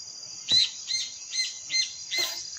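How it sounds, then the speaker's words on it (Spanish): Small birds chirp in a run of five short, bright calls over a steady high buzzing of cicadas, outdoors on a morning with a background hum. "Tenemos los pajaritos de fondo, las chicharras están a full hoy."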